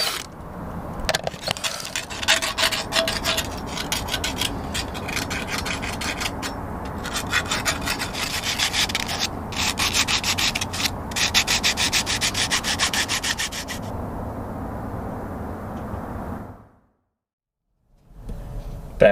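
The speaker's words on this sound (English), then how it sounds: "Let's get these filed smooth." Steady rhythmic rasping strokes of a hand file smoothing freshly drilled metal plates aboard a catamaran, close and continuous for most of the stretch before stopping into near silence.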